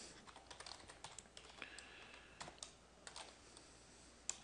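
A computer keyboard typing a password at a login to a cloud management portal: quick, light key clicks in short irregular runs with brief pauses, close and fairly quiet, with no voices.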